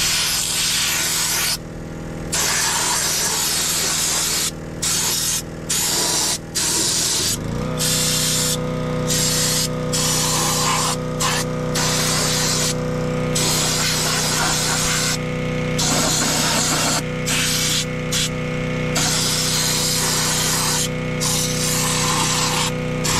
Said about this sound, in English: we're gonna go ahead and spray it anyways because I'm not replacing it yet this year